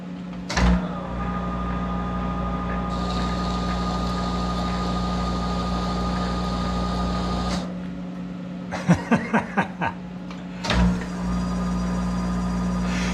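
A Monarch 10EE lathe cuts a screw thread, its motor humming steadily with a higher whine, then briefly cutting out before a quick series of clicks and a restart of the hum.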